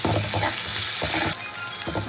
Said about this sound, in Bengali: টমেটো আর পেঁয়াজটা একসঙ্গে খুব ভালো করে ভেজে নেবো